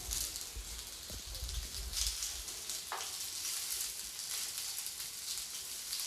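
Okra (bhindi) fries in a little oil in a pan for a low-oil achari bhindi dish without onion or garlic, giving a steady soft sizzle throughout with a few faint clinks.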